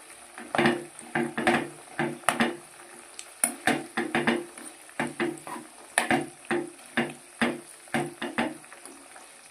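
Homemade hair oil with hibiscus flowers cooking in a pot on a gas stove, with repeated stirring scrapes and clinks against the metal over a soft sizzling bubble, in steady rhythmic strokes close by, without talking.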